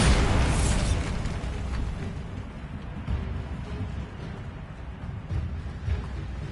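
Bombarda spell blast in Hogwarts Legacy, a loud, dense explosion that opens with a heavy burst and then rumbles on as a sustained roar and crackle throughout.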